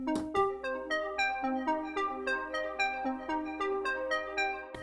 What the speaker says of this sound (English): But arpeggiators often do sounds like this